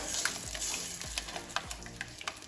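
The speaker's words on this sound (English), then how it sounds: "And now I'm going to add our ground saag. Just mix everything together." Ground mustard-greens saag being stirred through in a frying pan for makki ki roti and sarson ka saag, with a steady low sizzle and a few soft scraping sweeps of the spoon, close and alone.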